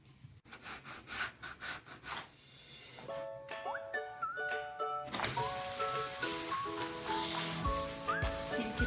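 Egg dosa frying in ghee on a hot pan, a steady close sizzle that grows louder and denser partway through, with scraping and faint tonal squeaks over it.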